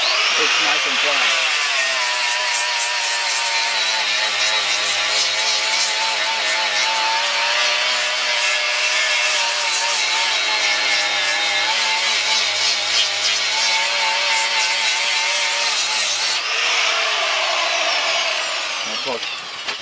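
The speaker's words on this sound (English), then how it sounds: "it doesn't take much to just turn on the grinder and go over it a little bit" An electric grinder smooths a post-and-beam timber frame beam flat, making a loud, continuous abrasive whine that holds steady for most of the stretch and then winds down near the end.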